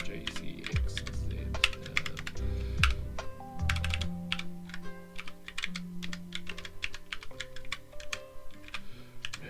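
Rapid computer keyboard typing in steady bursts of key clicks over about ten seconds, with a low hum and soft tonal sounds running underneath, no voice.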